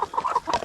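Chickens cluck while eating at a large mobile coop, a quick run of soft close clucks over a brief moment, with no talking.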